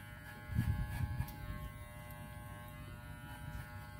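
A budget Walmart electric hair clipper buzzes steadily while fading hair, a close, even hum with a brief louder swell near the start as the blade is swung through the hair.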